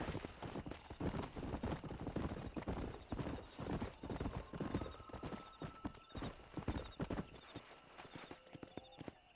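Horse hooves clip-clop at a steady galloping rhythm while riding in the Red Dead Redemption video game, loud and close, with a brief whinny and some background game sounds.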